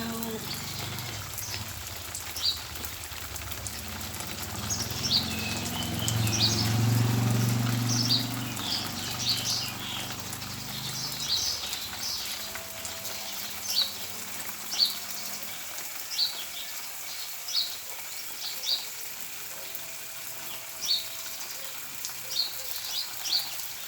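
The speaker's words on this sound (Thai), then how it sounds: "มารดน้ำดอกด้วยกันนะเจ้า" Water sprays over ornamental flowering plants from an artificial fountain, a soft rain-like patter with scattered drips; a low rumble sits underneath at first, then fades and leaves sharper ticking droplets.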